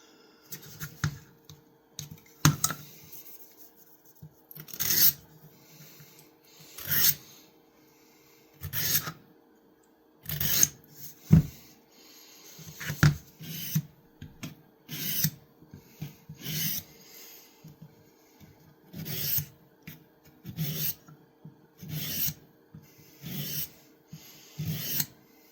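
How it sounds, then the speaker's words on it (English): Small knife blades drawn across a handheld field sharpener, giving a run of short, dry rasping strokes in an uneven rhythm with brief pauses between them, close and fairly quiet. "I'm just going to use the field sharpener on the little blades."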